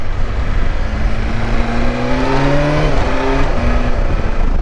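A 2020 BMW S1000XR accelerates hard and loud from the rider's position, its engine note climbing in rising sweeps broken by quick shifter gear changes, with steady wind rush throughout.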